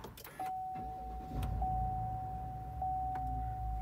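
A 2020 GMC Sierra 1500 AT4 with the 6.2-liter engine starts up quietly, a low rumble swelling under a steady cabin chime tone before settling into a smooth, subdued idle.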